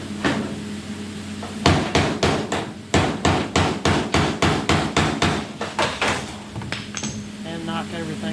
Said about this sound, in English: I need to try and see if I can get my dolly back behind it and hammer that out a little bit